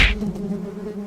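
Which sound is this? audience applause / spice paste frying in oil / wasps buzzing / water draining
wasps buzzing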